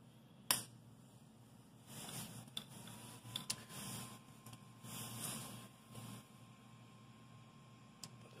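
Ender 3 V2 3D printer being switched on, giving a sharp click followed by faint, low hum and soft rustling clicks, with a steady thin tone rising under the quiet background.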